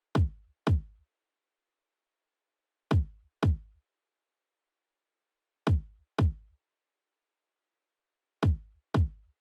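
Unprocessed kick drum in a pop beat, playing pairs of punchy low thumps roughly every three seconds with silence between, dry and close.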